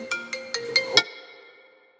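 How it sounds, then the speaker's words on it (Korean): A telephone ringtone plays as a quick rising series of five bright electronic tones, close and clear, with the last note ringing out and fading over the following second. "전화"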